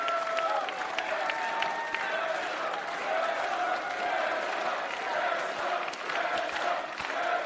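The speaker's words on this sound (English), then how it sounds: "Crowd showing their appreciation." Crowd applauding and cheering at a GCW Bloodsport wrestling event at the Palms, just after the Zack Sabre Jr vs. Jonathan Gresham match ends, a steady wash of clapping with scattered shouts throughout.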